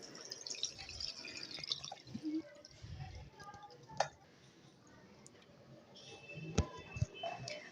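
Water drips and trickles from salt-water-soaked potatoes draining in a strainer, with scattered ticks and small clinks, fairly quiet and close.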